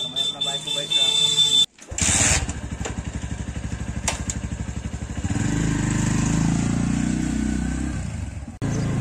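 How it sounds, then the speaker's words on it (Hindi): A motorcycle engine idles, cuts out, restarts and then runs steadily at a low throaty pitch as the bike rides off, loud and close throughout. "मैं अपना बाइक को बैठ रहा हूँ।"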